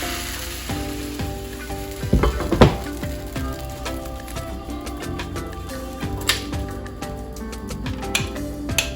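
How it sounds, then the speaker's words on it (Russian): Blini batter fries in a hot pan with a steady soft sizzle, punctuated by a few louder scraping and clattering moments from a utensil, with music playing faintly underneath. "Первая сторона жарится"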